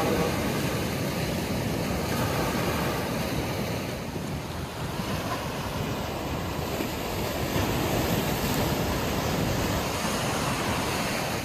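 Sea waves roll onto New Digha beach in a constant wash of surf, with strong wind buffeting the microphone throughout; loud and close, with no talking.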